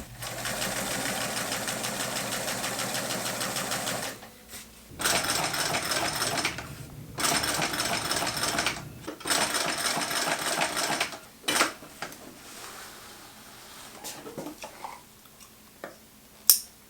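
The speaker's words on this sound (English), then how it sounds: "I cut out the pieces in fabric and sewed them together." A sewing machine stitches fabric backpack pieces in several steady, whirring bursts of rapid needle ticking, close and alone, with pauses and a few clicks between runs.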